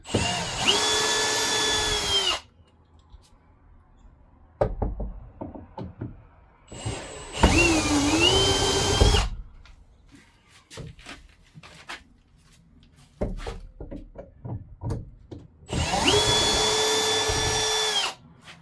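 Power drill driving screws out during a vehicle interior removal, three sustained whirring bursts of a couple of seconds each separated by quieter clatter and handling noise, close and loud.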